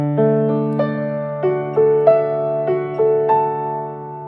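Piano arpeggio of a worship-song chorus, single notes picked out one after another in a steady, moderate rhythm, each ringing and sustaining over the held chord, close and clear with no voice.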